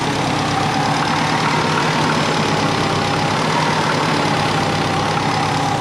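A twin-turbo Subaru Forester with a Haltech ECU, running slightly smoky, idles at about 1600 rpm, giving a loud, close, steady engine drone with a constant rumble and no talk.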